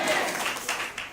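A church congregation applauds in praise of the Lord, a dense, steady clapping that carries on through the short moment with slight swells, sounding fairly close and lively.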